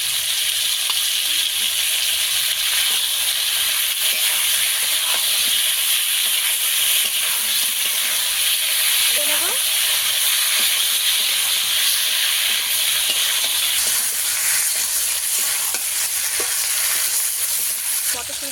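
Ginger and cumin paste fries in hot oil in a pan for a tengra fish curry with potatoes and peas, making a steady loud sizzle and hiss that carries on unbroken throughout, with occasional stirring scrapes.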